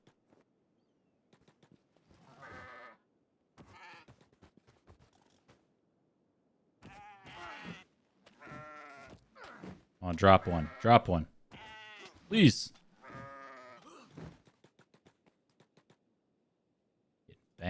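Goats in the video game Kenshi let out repeated bleats amid combat clicks and thuds, with a player talking over the sounds at close range.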